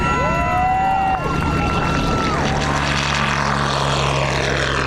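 A propeller-driven airplane built by a school aviation program drones steadily and loudly throughout, its engine pitch sweeping as it passes; the sound runs continuously with no speech over it.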